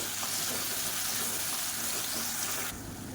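Small onions and medium tomatoes sautéing in a pan for hotel-style tiffin sambar, a steady soft sizzle that holds evenly for a few seconds and dips slightly near the end, with no talking.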